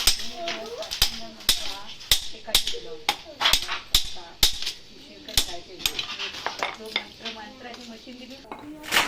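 Sharp, hard knocks repeat at a quick, fairly even pace, like a hammer striking wood, with people talking in between.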